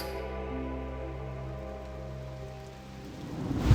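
Steady rain falls in a continuous hiss, with a low rumbling hum underneath and a soft thump near the end.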